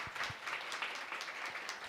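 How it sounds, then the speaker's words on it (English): Faint, distant audience applause at a SheFi summit fireside in Denver for Alyssa May, a soft steady patter of many hands throughout. "give her a round of applause"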